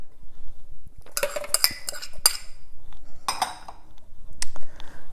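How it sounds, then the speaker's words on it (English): Ginger being sliced for green chicken curry paste, with a few sharp knife-on-board taps and clinks close by, in short irregular bursts with quieter gaps between. "So in the ginger, for easy blending, I slice them."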